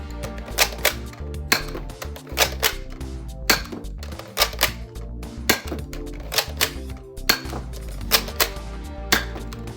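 Buzzbee Cataclysm blaster firing 50 cal foam balls, a dozen or so sharp snapping shots spaced roughly every second over a low background hum, close and crisp.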